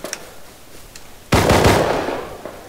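A sudden loud gunshot blast in a shooting video game, followed by a sustained roaring burst of rapid reports that fades slowly, heard alone without talk.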